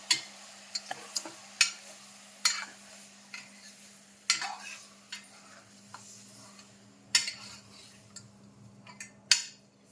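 A spoon stirs mutton curry in a pot, making a string of separate clinks and scrapes at irregular intervals over a quiet, low simmer, close and fairly soft, with no talking.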